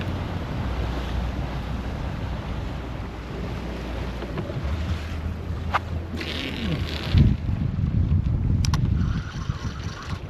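A fishing boat's engine drones steadily while the boat drives around offshore hunting mahi, a low rumble beneath wind and splashing surf, with a brief louder surge near the end.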